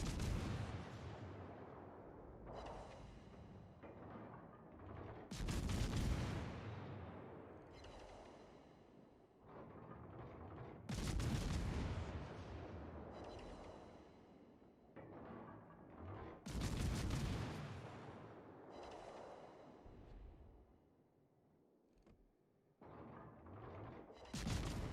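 Naval gunfire from warships in World of Warships, with a German destroyer nearby, rings out as heavy booming salvos roughly every five to six seconds, loud and close over a constant rumbling battle backdrop.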